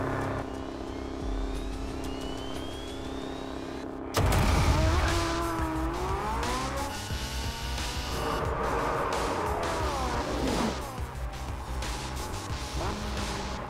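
A Porsche 918 races around a test track: a steady engine drone gives way to a loud close pass, then rising and falling engine pitch through gear changes and corners, with faint tire noise.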